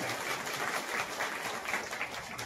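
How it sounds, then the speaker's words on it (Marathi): Applause at a parents' gathering at a village childcare centre: a crowd claps together with a dense, steady patter that sounds somewhat distant and fairly faint. "सगळ्यांनी जोरदार टाळ्या वाजवायच्या"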